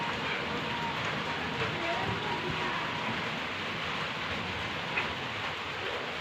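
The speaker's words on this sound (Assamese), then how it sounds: "একদম ৰাতিপুৱাৰ পৰাই বৰষুণ তো আজি চাগে বৰষুণ নকমে" Steady rain falls outdoors in wind and stormy weather, a dense, even hiss of drops on surfaces throughout with no break and no voices.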